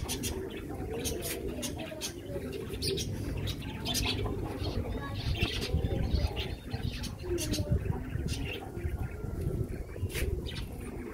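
Amber Sirohi pigeons coo in a loft, their soft throaty calls overlapping with chirps, wing flutters and scratchy movement throughout, fairly close and steady.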